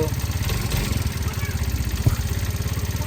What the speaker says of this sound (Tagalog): Kumusok nga pala at medyo maingay yung makina.